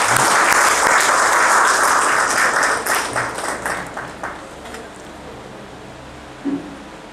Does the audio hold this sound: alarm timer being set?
no